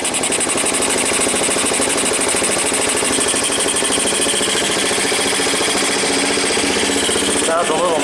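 A 1985 Yamaha BW 200 that sat unused since 1997 idles loudly and close, its rapid, even engine pulse thrumming without a break, with a leaking exhaust and a slightly noisy top end, and a short voice at the very end.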